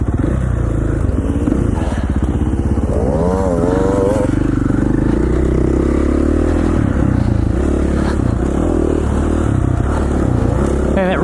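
A dirt bike rides snowy single track at Rabbit Creek, Idaho, its engine droning loud and steady throughout with revving swells and rattling clatter from the rough trail.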